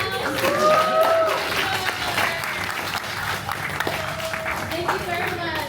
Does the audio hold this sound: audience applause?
yes